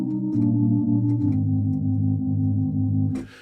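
A looped sample plays in a software sampler as a steady, buzzy tone whose pitch wobbles slightly up and down, with faint clicks, before stopping abruptly near the end.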